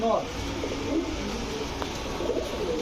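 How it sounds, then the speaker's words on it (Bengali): A male Tumbler pigeon cooing among pigeons for sale, soft low coos under steady background noise, with people talking nearby. "এরপরে দেখাবো টামলার একটা নর কবুতর"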